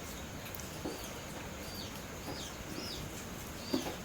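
Young chicks on a rural farm give faint, brief high peeps and a few soft clucks over a low background hiss, distant and sparse, with no one speaking.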